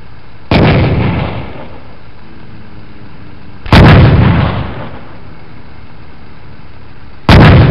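Video-game gunfire booms out in three loud, heavy blasts spaced a few seconds apart, each followed by a rumbling decay.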